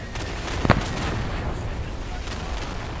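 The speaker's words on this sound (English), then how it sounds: "we are getting hit with, like... anti-tank things, and bombers, and artillery, and we've got rockets coming in as well" Artillery fire in the World War II shooter Day of Infamy booms over constant battlefield rumble, with one sharp close impact standing out and distant blasts continuing.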